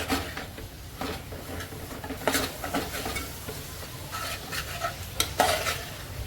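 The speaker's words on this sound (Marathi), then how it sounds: "तोही आता मस्त तेलावर बारीक फ्लेमवर मी परतून घेते" Homemade stored masala stir-fried in oil over a low flame for a Mumbai-style fish curry, with steady soft sizzling and scattered scraping stir strokes of a spoon against the pan, close and continuous, no voices.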